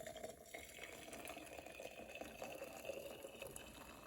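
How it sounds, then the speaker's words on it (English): Water from a kettle pours quietly and steadily into an Aeropress coffee maker, a soft continuous trickle heard close up. "And then I'm gonna pour the water."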